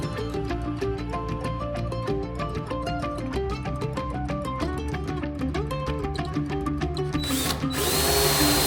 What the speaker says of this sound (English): I'm gonna go ahead and montage through me screwing these all together